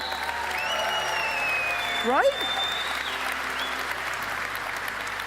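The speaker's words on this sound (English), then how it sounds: "Let's clap it up for these guys." Applause from a conference audience at an outdoor setup, a soft, continuous patter of clapping heard at a distance, with a brief voice and a short whistle-like sound partway through.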